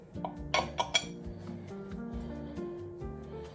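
A regular knife slicing cake on a plate, giving a few light, bright clinks as metal taps the dish, the loudest cluster near the start, then softer scrapes over a quiet room with low background hum.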